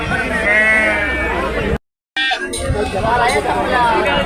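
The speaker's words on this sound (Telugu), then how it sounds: "చూడొచ్చన్న మాచర్ల గొర్రె పదాలు ఇవి" Several sheep bleat loudly and close amid crowd chatter and talking at a sheep market in Kunta, with a short silent gap partway through.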